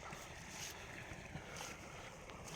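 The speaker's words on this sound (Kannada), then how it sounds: "ನೋಡ್ರಿ ನೀರಿನ ಸೌಂಡ್ ಯಾವ ರೀತಿಯಾಗಿ ಬರ್ತಾ ಇದೆ" Water from the Tungabhadra dam flowing through a farm field, a faint continuous rushing wash with some wind in the open air.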